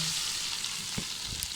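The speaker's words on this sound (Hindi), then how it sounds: "ये देखें इसको हलीम को तड़का लग चुका है और जो है हलीम तड़फ उठा है अंदर से" Hot tempering (tadka) poured into chicken haleem crackles and sizzles in a short, steady burst, with a couple of soft utensil knocks near the end.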